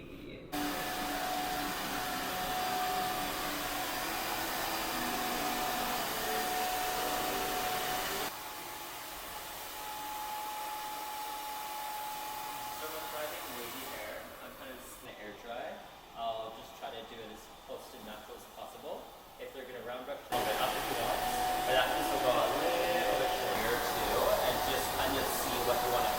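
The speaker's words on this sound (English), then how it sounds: "I'm going to kind of stretch it and blow dry it" A handheld hair dryer blows steadily while a man's hair is stretched and blow-dried smooth but wavy in a barber class; the loud whooshing airflow drops and shifts partway through, with a voice speaking at moments.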